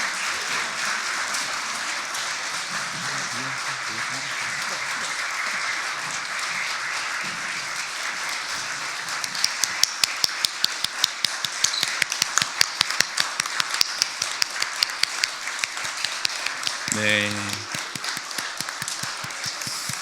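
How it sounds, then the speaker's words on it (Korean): A church congregation applauds during a Korean worship service as members return to their seats. Soft, scattered clapping builds into louder, steady rhythmic clapping, with a brief voice partway through. "자리에 앉을 때까지 박수 쳐주시기 바랍니다"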